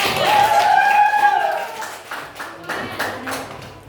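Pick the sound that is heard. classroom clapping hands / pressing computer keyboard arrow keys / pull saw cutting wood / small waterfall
classroom clapping hands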